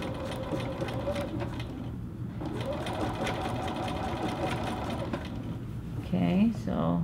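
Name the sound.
sewing machine straight stitching a skirt hem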